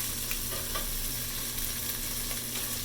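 Steady, close sizzling of shrimp frying in hot oil for salt and pepper shrimp, a dense continuous crackle with small bubbling pops throughout.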